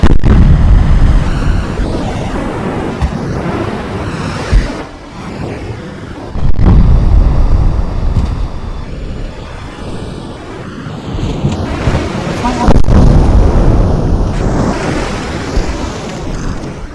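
Naval high-explosive shells bursting in the game Ultimate Admiral Dreadnoughts: loud, rumbling booms with heavy low-end roar, several blasts separated by short dips, continuous and close with no talk.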